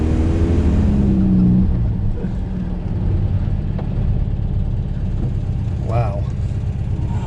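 A pink 1969 Volkswagen Beetle on its first drive in 14 years rumbles along a subdivision street with a steady, close, low engine drone and a brief rev at the start, and people talk over it.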